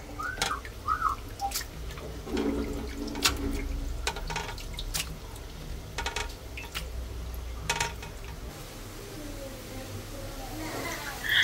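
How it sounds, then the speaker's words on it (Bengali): Raw chicken pieces washed by hand with water in a home kitchen while cooking chicken curry, with irregular splashes, drips and light clatters of a bowl or pot, fairly close against a low background hum. "আর এদিকে আমি মাংসগুলো ভালো করে ধুয়ে নিতেছি।"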